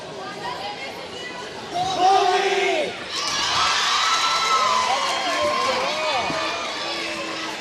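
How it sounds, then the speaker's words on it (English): A high school basketball student section yells and shouts in a loud burst during an opponent's free throw, the crowd roar swelling and staying dense with overlapping voices in a packed gym. "Bend High student section trying to disrupt her"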